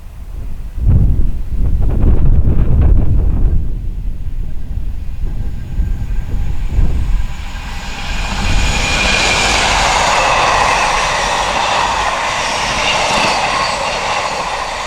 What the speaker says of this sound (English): the Mossend to Teesdock intermodal train with 66 109 in charge